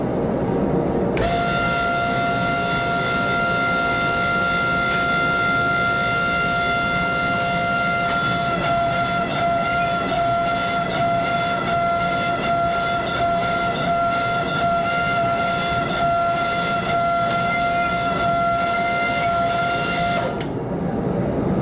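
A loud hydraulic press runs steadily with a constant droning hum and high whining tones, holding unbroken for about twenty seconds before cutting off.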